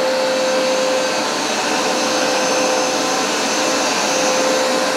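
A Hoover SmartWash carpet cleaner runs a solution pass, a loud, constant close-up motor whine and airy suction roar with a steady tone throughout and no voices.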